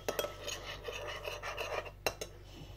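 A spoon stirs and scrapes through yogurt in a bowl, giving a run of close, clinking and scraping strokes with a couple of sharper knocks against the dish.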